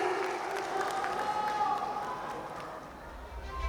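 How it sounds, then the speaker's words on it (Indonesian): An audience at a regional candidates' vision and mission event in Empat Lawang applauds steadily, a broad wash of clapping that tapers slightly toward the end. "Berikan tepuk tangan yang paling meriah hadirin"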